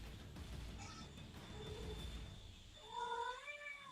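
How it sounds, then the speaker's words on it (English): A cat meows a few times at a distance, with one clear, drawn-out meow near the end over a quiet room background. "That was your cat."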